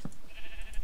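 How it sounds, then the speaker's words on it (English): A short sheep bleat from the Minecraft video game, a single quick, clear call at the start followed by a faint lingering tail, with no talking. "Finally in our life, we see sheep!"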